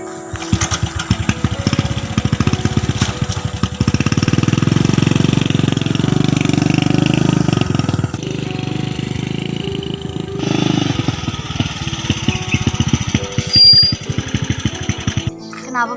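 An old, worn-out motorcycle engine runs with a loud, rough, chugging rumble for most of the stretch, with its tone changing partway through, while people talk over it.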